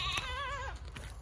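A goat on a ranch gives one clear, wavering bleat up close, fading out within a second against a quiet outdoor background.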